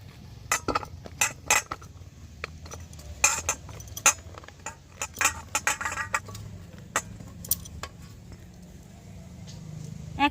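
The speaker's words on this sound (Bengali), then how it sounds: "এবার আমি এই আমগুলোকে একটা গামলার মধ্যে ঢেলে নেব।" Sliced raw green mango pieces are tipped into a metal mixing bowl while a pickle is being made. The pieces land as irregular clinks and knocks, some close and sharp, scattered over about ten seconds with quiet gaps between them.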